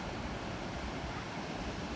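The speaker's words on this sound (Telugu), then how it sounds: "ఇక్కడ డ్యామ్ ఉంది, ఆడ వాటర్ కూడా వస్తుంది నీట్గా" Water pours through a dam along a motorbike route to Srisailam, a steady broadband rush that stays constant and fairly loud throughout, with no clear voices over it.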